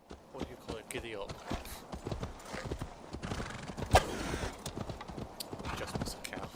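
Horse hooves clip-clopping at a steady gallop in Assassin's Creed Valhalla, with a whinny partway through, running continuously under game sounds and someone talking.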